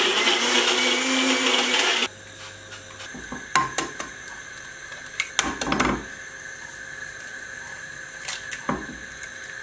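A blender whirs loudly for about two seconds making a thick yogurt smoothie, then cuts off, followed by scattered clicks, clatter and handling noises at close range.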